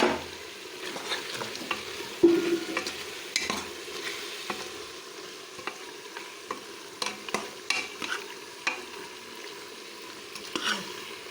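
Ripe tomatoes cooking on a low flame in a chicken curry, giving a soft continuous sizzle with repeated stirring scrapes and light clinks of a spoon against the pot.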